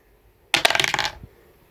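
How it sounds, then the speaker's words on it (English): Dice clatter across a tabletop during a tabletop game session, a quick burst of several rattling clicks and bounces lasting under a second before settling, heard alone and close. "So let's just roll a dice."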